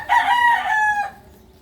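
A native rooster in Bulacan, Philippines crows once, close and loud, a drawn-out cock-a-doodle-doo that trails off into quiet.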